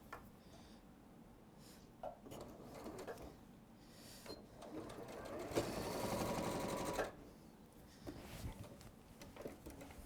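A domestic sewing machine runs a quick basting stitch across a seam allowance, its rapid mechanical whirr rising loudest mid-clip amid light handling noise and brief pauses.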